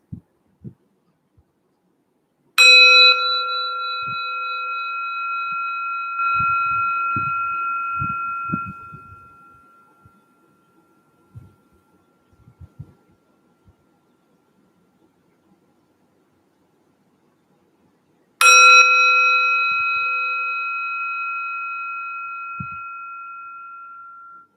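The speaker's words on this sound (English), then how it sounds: "sound of the singing bell as it fades" A singing bowl is struck twice, about fifteen seconds apart. Each strike rings out clearly and then fades slowly into a long sustained tone, with faint soft knocks in the quiet stretch between.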